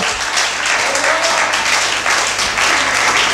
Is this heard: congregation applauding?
yes